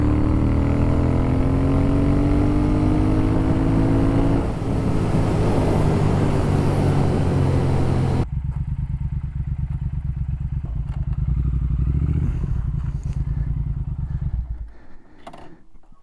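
A Triumph Speed motorcycle ridden on a road, its engine droning loudly and steadily with rising and falling pitch, then dropping lower and quieter as it slows and fades near the end.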